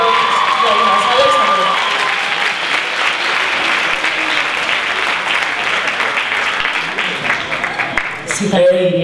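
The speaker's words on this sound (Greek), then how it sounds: "Ένα ακόμα πιο δυνατό χειροκρότημα" Crowd applause for contest winners at a carnival singing event in Agios Nikolaos, loud sustained clapping with some cheering that runs steadily for several seconds, while a voice speaks over it near the end.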